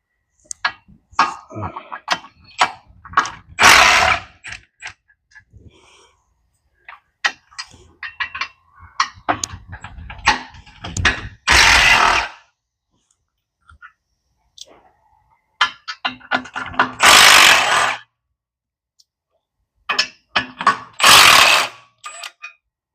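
Bolts on a clutch assembly are removed with a ratchet wrench, giving bursts of quick close clicking separated by pauses, with several longer louder ratcheting runs and some clanks.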